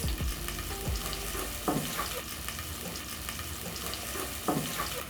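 Onions frying in a pan for a Kenyan pork wet fry give a steady close sizzle, with a few scraping stirs breaking through the crackle.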